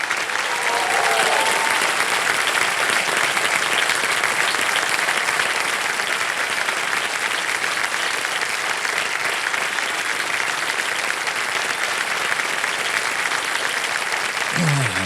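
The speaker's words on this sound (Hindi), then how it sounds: "एक बार फिर जोरदार तालियां इन दोनों बेटियों के लिए।" A studio audience at the Kaun Banega Crorepati game show gives loud, steady applause that runs unbroken for about fifteen seconds.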